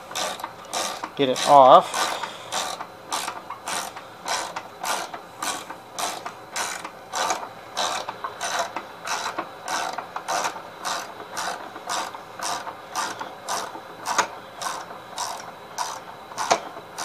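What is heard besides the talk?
9/16 wrench loosening belt on Gravely tractor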